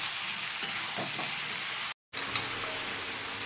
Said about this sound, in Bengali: পরিমাণ মতো হলুদ, ভালো করে মিশিয়ে নিচ্ছি